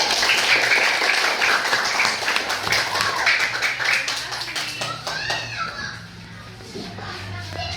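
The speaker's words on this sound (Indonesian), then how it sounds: "Tepuk tangan untuk Margaret." Elementary school classroom students clap together in a brief burst, with children's voices and chatter mixed in and the clapping thinning out partway through.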